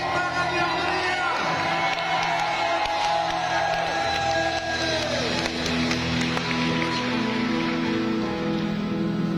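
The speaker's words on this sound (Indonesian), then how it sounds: "Kita beri tepuk tangan yang meriah" A packed audience at a Catholic gathering in Makassar gives loud, sustained applause with cheers and whoops to welcome a bishop and a priest, a dense wash of clapping over faint music and murmuring voices.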